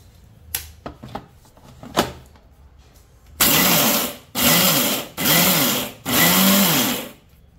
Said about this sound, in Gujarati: જો આ ગાંગડા છે એને મિક્સરમાં